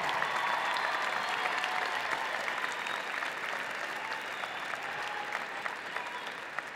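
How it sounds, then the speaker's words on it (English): Audience at a high school event applauds the parents of graduating seniors, sustained crowd clapping holding steady, with faint voices mixed in. "let's give your parents a round of applause"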